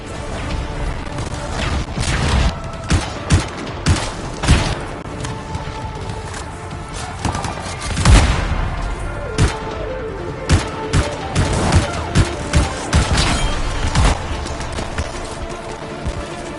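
Sustained gunfire in a battle scene from the video game Anthem: loud, close bursts of rapid shots and a heavy impact midway, dense and continuous throughout.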